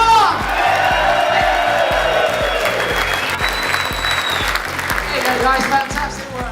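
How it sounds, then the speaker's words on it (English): A crowd at a stag-do event at St. George's Park claps for the winner, with cheers and whoops. Steady, loud applause runs throughout over thumping background music, with voices shouting in the mix. "A round of applause for your winner, come on!"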